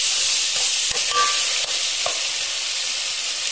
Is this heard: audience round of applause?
no